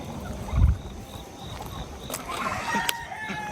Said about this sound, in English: Little chickens running around.